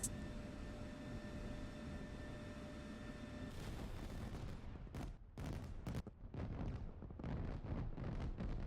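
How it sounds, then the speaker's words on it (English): An artillery barrage in the DCS combat flight simulator: a steady roar gives way to a rapid series of loud booming impacts and rumbling blasts, continuous and layered with no speech. "And there the artillery begins behind us, then to the front, and then to the left."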